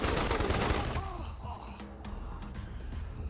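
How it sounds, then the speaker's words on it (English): Gunfire from the Wasteland 3 video game: a loud burst of shots at the start, followed by fainter game effects and impacts as the noise dies down. "is going to take a shot at this thug"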